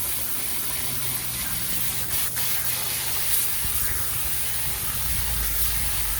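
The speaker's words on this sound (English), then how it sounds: "You just take a hose, start from the top" A garden hose sprays water over in-ground pool filters, making a steady, loud, close hiss of spray and splashing that continues without a break.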